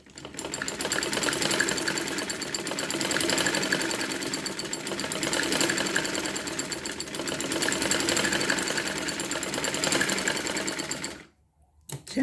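A sewing machine stitches elastic onto the waist of a dress with a loud, rapid, close mechanical chatter in long continuous runs, then stops abruptly near the end.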